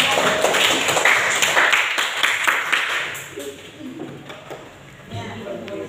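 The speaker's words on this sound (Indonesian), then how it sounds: "Tepuk tangan dulu kita semua" A classroom of students claps hands together on a teacher's cue, a brisk burst of clapping for about three seconds that fades into quieter room sound with voices.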